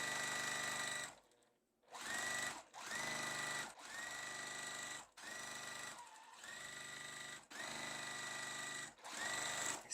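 A sewing machine stitches the roof piece of a quilt block from fat-quarter fabric, with a steady close whirring hum that runs in bursts and stops briefly between runs.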